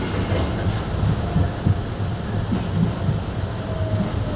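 An MBTA Green Line C Route streetcar in Boston heading to North Station, running with a continuous low rumble and rhythmic clatter of wheels on rail, with faint squeals.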